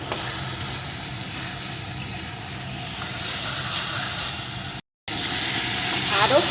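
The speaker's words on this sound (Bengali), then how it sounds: "এখন আরও কিছুক্ষণ এইভাবে নাড়িয়ে আমি রান্না করে নেব" Banana flower paste stir-fries in mustard oil, a loud, close, steady sizzle and hiss with stirring scrapes, cut by a brief silent dropout near the end.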